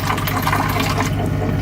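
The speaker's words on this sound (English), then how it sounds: "there's much more waste coming, really flowing out of that pipe" Waste water streams steadily out of the drain pipe of an Osmio Zero reverse osmosis system, a loud, close, continuous gush and splash with no talking.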